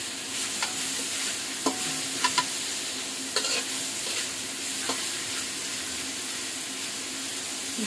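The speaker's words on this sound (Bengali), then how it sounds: "খুব ভালো করে এগুলো ভাজতে হবে।" Ingredients for chicken fried rice stirred and frying in a pan, a constant close sizzle with a few light scraping knocks from the utensil, steady and even, no voices.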